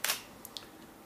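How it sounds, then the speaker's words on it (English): A camera shutter fires in a burst right at the start, followed by two faint mechanical clicks, with no talking. "Now if I take a picture now, again like I just did"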